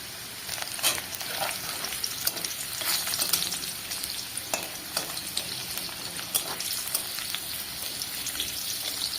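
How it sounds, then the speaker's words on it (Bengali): Garlic dropped into hot oil after dried chillies were fried, sizzling steadily while being stirred, with dense crackling spatter and occasional sharper pops close by; no talking. "এবার তেলের ওপরে রসুন দিয়ে দিলাম"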